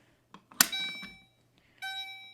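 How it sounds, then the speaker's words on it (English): A fire alarm pull station is pulled with a sharp mechanical clack, then the alarm sounds a bright electronic chime tone that rings out, stops, and sounds again in a code 3 pattern, with no talk. "And that sets off the alarm."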